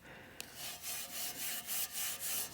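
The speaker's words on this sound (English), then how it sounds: "This is just really fine steel wool that I'm using." Fine steel wool scrubbing rust off cast iron in rapid rhythmic back-and-forth strokes, a dry scratchy rasp repeating about twice a second, close but soft, with a faint click near the start.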